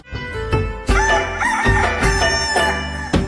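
A fighting rooster crows loudly in several bursts, set against a dense musical backdrop of a Sankranti village-festival song.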